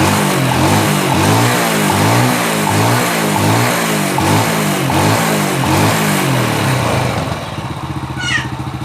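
A motorcycle engine with a standard slide carburetor is revved steadily and loudly up close for several seconds, then drops back to a lower, pulsing idle.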